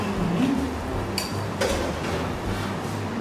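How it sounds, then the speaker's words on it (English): Gravy is stirred together with sizzling hot chicken in a dish, with utensils scraping and clinking against the dish over a steady low background, including one sharp metallic tap. "I'm going to mix this gravy and the chicken together."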